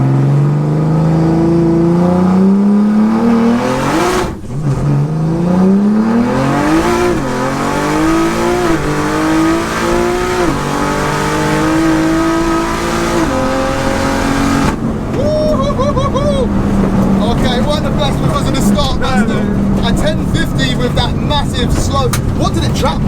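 A 1400bhp BMW launching and accelerating hard, a loud engine revving up through repeated rising gear pulls, close and dominant, with voices faintly underneath.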